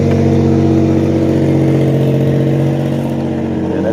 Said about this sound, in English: Damn, that car sound like shit.